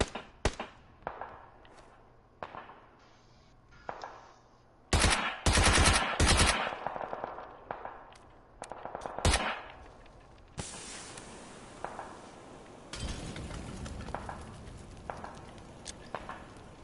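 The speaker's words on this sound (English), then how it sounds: "Oh, somebody's shooting." Gunfire in PUBG: scattered single shots and short rapid bursts of varying loudness, some near and sharp and others more distant, with a sustained noisy stretch near the end.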